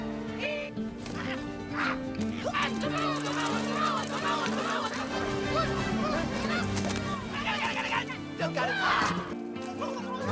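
Cartoon dodo birds in the animated film Ice Age (2002) squawk and honk in a frantic, goose-like chorus of repeated calls, layered over busy orchestral music throughout.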